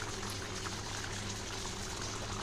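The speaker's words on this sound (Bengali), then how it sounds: "তো এই দেখো এবার একটু ফুটিয়ে নেব এর মধ্যে মাছটাকে" Hilsa fish curry with taro simmering in a pot, a faint continuous bubbling with low watery gurgle, steady throughout and no one speaking.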